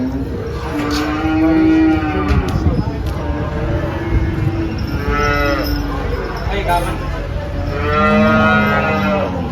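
Several long, deep moos from Holstein Friesian cattle sound close by at a cattle market, rising and falling, with some background voices and farm noise around them.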